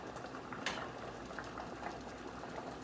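Shrimp and snow crab sautéing in a pan for fettuccine Alfredo, a steady, dense sizzle and bubbling heard up close, with a faint clink partway through and no voices.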